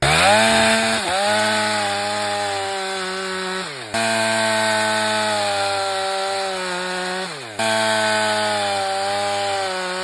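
A chainsaw bores into a tree trunk during winter felling with a triple hinge, its engine roaring loud and steady at close range with two brief dips in pitch as the bar loads in the wood.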